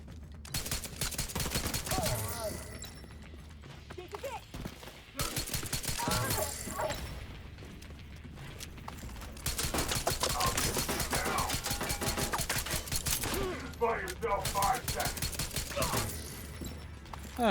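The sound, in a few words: gunfire in a video game, Lexington build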